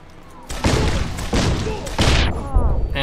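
Loud, close grenade explosions from the game Deus Ex: Human Revolution Director's Cut, several heavy blasts bursting in quick succession with rumbling tails, the last one ringing off into quieter sounds.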